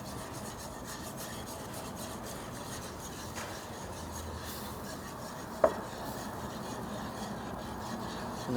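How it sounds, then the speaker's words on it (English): A whisk scrapes steadily through a Cajun-seasoned sauce in a hot skillet, working out lumps with a faint, continuous rasping stir and one brief clink partway through. "try to whisk out any of those lumps"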